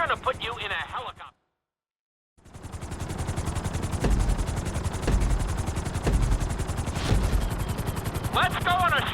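Helicopter in GTA 5 during a flight-school city tour, a dense rotor-like rumble and rapid chopping throughout, interrupted by a brief silence near the start, with tonal game music or chatter at the edges.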